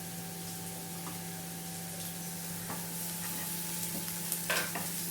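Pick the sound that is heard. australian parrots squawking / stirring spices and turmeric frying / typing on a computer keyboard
stirring spices and turmeric frying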